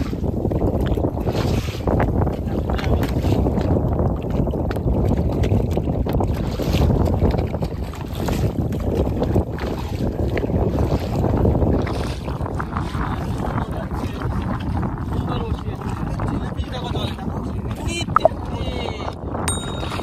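Wind roars across a tiny two-oar rowing boat out on the Mata River among the Sundarbans creeks. Lapping water sits under heavy, unbroken wind noise that holds loud for the full stretch, with a brief knock near the end.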